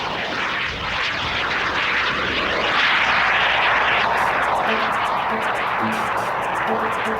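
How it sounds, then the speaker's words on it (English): Jet aircraft at an air show rumble and roar steadily from a distance as they taxi and turn at opposite ends of the airport, the engine noise swelling slightly mid-way, with faint clicking near the end. "both of the jets now at opposite ends of the airport turning around"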